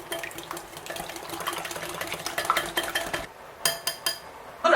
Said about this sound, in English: Then I'm going to mix.